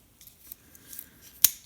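Victorinox Executive pocket knife's small 74 mm scissors snipping: a few faint, close clicks leading up to one sharp, bright snip near the end, with no talking.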